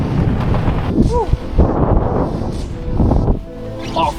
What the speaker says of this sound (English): It's so windy that it just pushes all the snow right over.